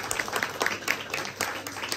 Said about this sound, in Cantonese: 大家俾掌聲佢先